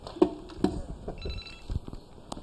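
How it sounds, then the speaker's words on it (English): An incoming call rings on a telephone in a studio during a live talk show, a short electronic ringing tone sounding a few times, moderately loud against faint background noise. "we're getting phone calls for this show now"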